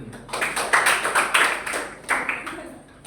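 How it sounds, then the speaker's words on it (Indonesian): Students clap their hands in a classroom after a presentation, uneven bursts of close clapping with voices heard over them. "Tepuk tangan."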